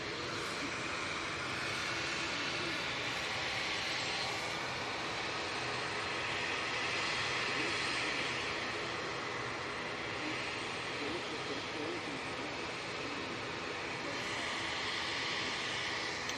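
Virgin Atlantic Airbus A350-1000 departing Manchester Airport, a continuous moderate jet roar with slow swells, with people talking over it.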